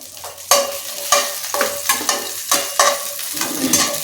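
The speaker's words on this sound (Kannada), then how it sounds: "ಈಗ ಹಸಿಮೆಣಸಿನ್ಕಾಯಿ ಹಾಕೊಳ್ಳೋಣ ಇದಕ್ಕೆ ಹುರಿಯೋದಕ್ಕೆ." Green chillies are stirred in hot ghee in a pan for a palak pudina chicken recipe, with a close sizzle broken by repeated sharp spoon scrapes and clinks at a quick, uneven rhythm.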